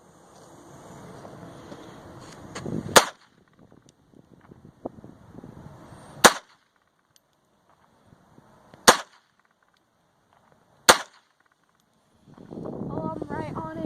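Four sharp, loud gunshots from a .22 rifle fired outdoors, spaced a few seconds apart with quiet wind between them, and people talking before and after.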